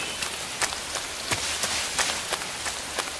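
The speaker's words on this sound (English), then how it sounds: "It's raining too." Rain falls steadily in the video game Metal Gear Solid 3, a soft even hiss with faint scattered taps and patters.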